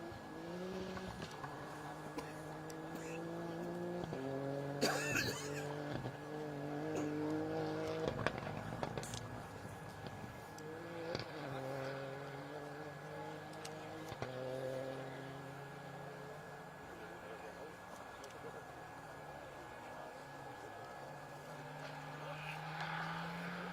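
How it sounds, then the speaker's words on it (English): A Ford Fiesta R2T rally car on a special stage of Rally Wervik 2022, its engine note rising and falling through repeated gear changes as it passes at moderate distance, with a commentator talking over it. "That is Xavier Lanou with a Fiesta R2T"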